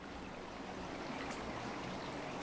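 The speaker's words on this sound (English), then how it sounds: "Just nice to hear the water flowing." Water flows along a stream outdoors in a quiet spot, a soft continuous rushing and trickling wash that stays even throughout.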